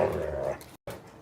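Dogs at a pool party growl low and rough as they play, a close and continuous rumble that breaks off briefly, then carries on.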